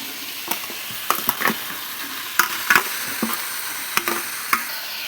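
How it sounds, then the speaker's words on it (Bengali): Pointed gourd seeds fry in a pan with turmeric and salt, a steady low sizzle broken by sharp clicks and scrapes of stirring, heard up close. "পরিমাণ মতন হলুদ, পরিমাণ মতন নুন দিয়ে ভালো করে কষে নেব"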